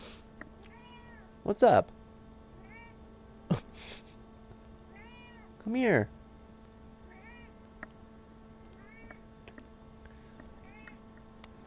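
A house cat gives three loud meows close by, spaced a few seconds apart, while a person speaks briefly to it and faint game music plays in the background.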